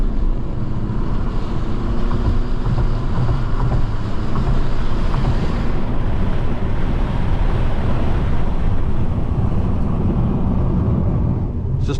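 Loud wind roaring through an open window of a 2024 Mercedes C-Class driving in Spain, a constant heavy buffeting rush that fills the cabin without letup.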